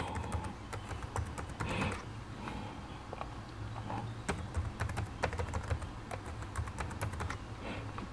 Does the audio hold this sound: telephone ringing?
no